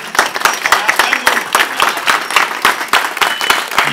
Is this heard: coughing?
no